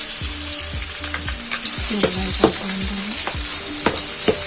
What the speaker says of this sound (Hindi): हम लोग इतना सा प्याज डालेंगे, एक मीडियम साइज की प्याज है ये, तो मैं अभी इसमें डालूंगी